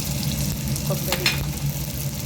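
Coconut, fenugreek and coriander seeds are dry-roasted in a pan for a Telangana mint coconut chutney. A low, steady rustle of stirring runs throughout, with a few light scrapes and clinks near the middle.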